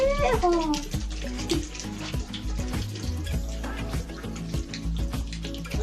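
Water from a drinking fountain runs in a steady splashing stream, close and fairly loud, with clattering and a few background voices around it.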